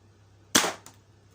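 A Worker Cheetah 2.0 foam dart blaster fires a single damp foam dart, one sharp close pop followed by a softer secondary click, with silence before and after.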